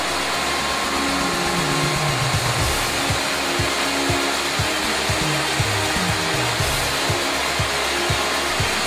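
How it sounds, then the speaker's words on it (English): K2 woodworking machine milling a dovetail joint in timber, a loud steady whine that runs without a break, with a regular pulsing low cutting rhythm under it and no voices. "Traditional joints, such as this dovetail connection, can be quickly and precisely cut with the K2."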